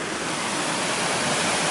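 Dirty wastewater pours steadily through a treatment plant in Ptuj, a loud, continuous broadband rush like a close waterfall, with no voices.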